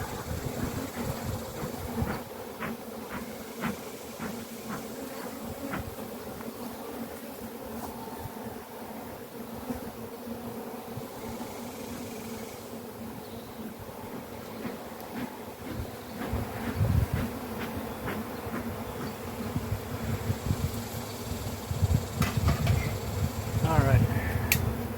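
Agitated honeybees swarm around an opened brown hive during an inspection, a dense, close buzzing drone that swells louder near the end, with handling knocks and some talking mixed in.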